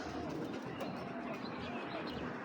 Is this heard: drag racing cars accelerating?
no